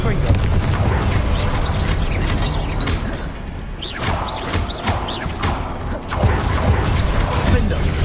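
Confringo fire-blast spells go off in the video game Hogwarts Legacy amid dense, loud game audio, with repeated explosive bursts and mechanical clatter over a continuous background.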